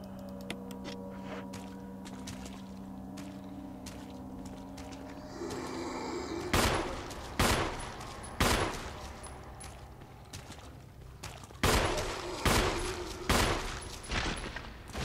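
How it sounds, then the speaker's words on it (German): Repeated gunfire in the Resident Evil HD Remaster video game: loud, sharp shots in uneven bursts over a low ambient drone, with the closely spaced volleys landing in the second half. "Haben meine ersten Schüsse getroffen?"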